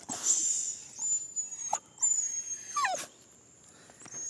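A dog whines and whimpers indoors in South India, several high thin cries and short yips spread over a few seconds, fairly close and moderately loud, with quiet gaps between them.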